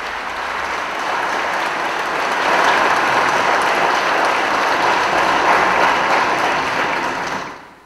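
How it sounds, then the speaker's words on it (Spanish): Sustained audience applause fills a session hall at a special national journalists' day session, steady and dense clapping for several seconds before fading out at the end. "Rigoberto Cabeza, a quien pido un aplauso fuerte."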